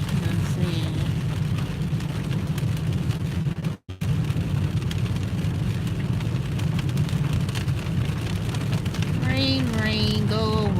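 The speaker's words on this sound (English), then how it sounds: "Rain, go away." Steady rain falls with a dense patter over a low rumbling drone, loud and continuous apart from a brief dip, with a faint squeaky tonal sound near the end.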